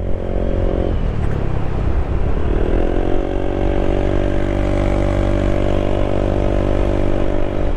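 Honda PCX 160 scooter, remapped, with its exhaust droning steadily while climbing an uphill road, a loud continuous engine note that dips briefly then rises and holds near the mic.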